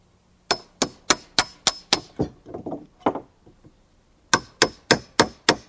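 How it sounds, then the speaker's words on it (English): A chisel struck by a mallet to finish rip cuts in a wooden post, a steady series of sharp loud knocks, then a pause with scraping and a few blows, followed by another even run of strikes. "A chisel finishes it off."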